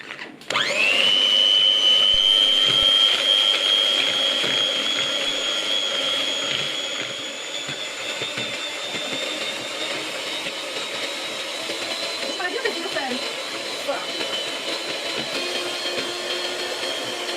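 A steady electric mixer whips cream, whirring loudly with a high whine, running continuously and settling slightly lower as it keeps going.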